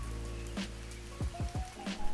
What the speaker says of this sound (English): we're just sort of walking through whilst the drizzle's here, just through the forest